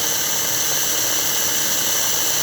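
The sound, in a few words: American Flyer Pacific model train motor running on ball bearings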